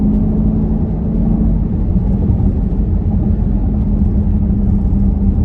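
SRT Grand Cherokee engine in manual mode during downshifts on a rough road, a loud, close, steady low rumble and drone that holds throughout with only slight rises in pitch.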